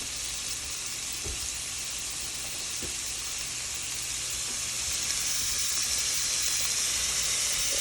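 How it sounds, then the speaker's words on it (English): About a teaspoon of minced garlic sautés in a soup pot, giving a steady, dense sizzling hiss throughout, close and even, with a few faint stirring knocks and no talking. "And you just want to get that sauteed up."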